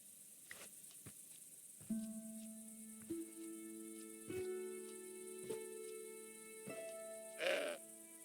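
A goat in the video game Broken Sword 5: The Serpent's Curse bleats in a few short, nasal, harmonic calls spread across the scene over a soft ambient bed, with light footstep-like taps and no talking.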